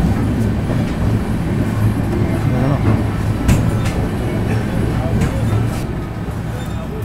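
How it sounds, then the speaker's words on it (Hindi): A Humsafar Express train pulls out of Ghaziabad Junction at high speed, giving a loud, steady rumble of rolling stock with sharp clacks from the rails while someone talks over it. "हाई स्पीड के साथ गाड़ी हमारी निकल रही है यहाँ से"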